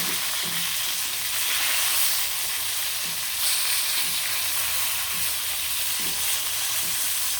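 Snakehead river fish frying in a pan of oil, a steady broadband sizzle running throughout with faint periodic clicks of a spatula; no voices.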